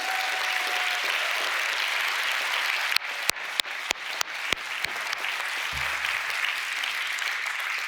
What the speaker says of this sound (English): we should give a very big round of applause to the great Dmitri Cherniak